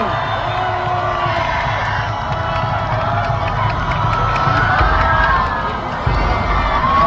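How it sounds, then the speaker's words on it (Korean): At an outdoor election rally in a city plaza, a large crowd cheers and shouts continuously, with a broad, roaring mass of voices and only faint clapping throughout. "여러분 다시 한번 큰 박수 부탁드립니다."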